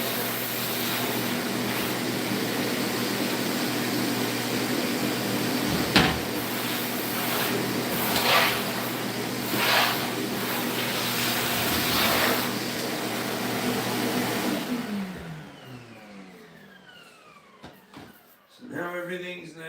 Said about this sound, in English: just vacuuming off some of the debris that's sitting on the floor